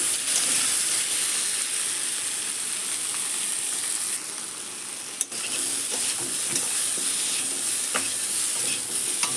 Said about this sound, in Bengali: এবার নেড়ে ভালো করে একটু ভেজে নেব কলাগুলো।